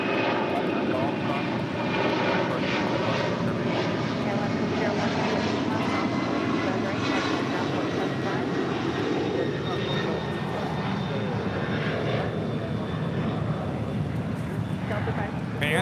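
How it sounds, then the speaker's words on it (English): A Delta Boeing 767-300ER takes off at LAX, its jet engines a loud, broad, sustained roar that swells and shifts as the aircraft accelerates, with a voice speaking over it. "Their next departure is Delta 562 taking off to JFK on the 767-300ER."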